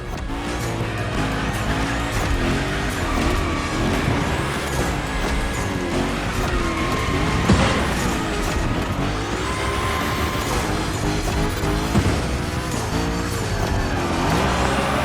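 The Hoonicorn car drifting through a Gymkhana course in The Crew Motorfest, a continuous loud engine roar with rising and falling revs and tire squeal under game music.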